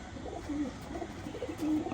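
A Firozpuri pigeon coos softly in low, repeated murmurs against faint background noise.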